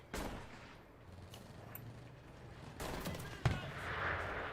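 Gunfire aimed at the player in the war game Enlisted: a few scattered shots and cracks over a low rumbling battle background, moderately distant and fairly quiet.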